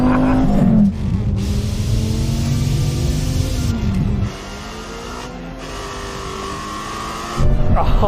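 Two drag-racing cars, an 850 HP Ford Mustang and a V10 Dodge Viper, launch and accelerate hard, their loud close engine roar rising through the gears, easing briefly midway, then surging again near the end.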